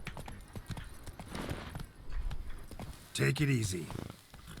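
Galloping horse hooves from The Witcher 3 beat in a fast, uneven run while someone talks over them, and a horse's whinny breaks out near the end.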